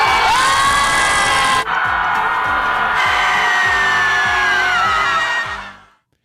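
A crowd gathered at a Scream Club Chicago meetup yells and screams together in a loud, sustained group roar that holds for about five seconds before cutting off.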